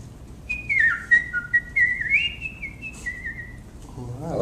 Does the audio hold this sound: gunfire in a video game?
no